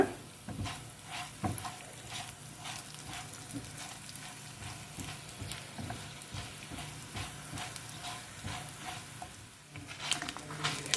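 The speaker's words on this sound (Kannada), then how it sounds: "ಈ ಎಣ್ಣೆ ಬಿಸಿಯಾಗಿದೆ ಈಗ ಇದಕ್ಕೆ ಈ ಮೆಣಸು ಕೊತ್ತಂಬರಿ ಜೀರಿಗೆ ಹಾಗೂ ಮೆಂತೆಯನ್ನು ಹಾಕಿಕೊಂಡು ಇದನ್ನು ಸ್ವಲ್ಪ ಘಮ ಅನ್ನಿಸುವ ಹಾಗೆ ಇದನ್ನು ಹುರಿದುಕೊಳ್ಳೋಣ" Chili, coriander, cumin and fenugreek sizzle and crackle in hot oil while being stirred, a faint, continuous close frying hiss with scattered pops and scraping strokes.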